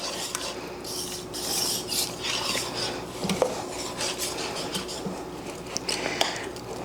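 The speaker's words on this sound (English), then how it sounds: "Just give it a quick stir" Utensil scraping and clinking against a pot while Low Country BBQ hash is stirred, a steady close clatter with faint sizzle underneath, no talking.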